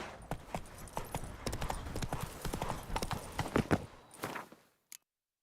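Roach, the horse in the Witcher video game, gallops in quick rhythmic clip-clop hoofbeats, close and clear for about four seconds before stopping abruptly, then a brief final thud.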